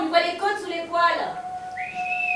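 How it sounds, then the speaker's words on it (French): A person whistles loudly to call a thin, hungry dog. Sustained whistled tones end in a rising high whistle, mixed with voices talking. "Vous voulez pas arrêter de siffler comme ça?"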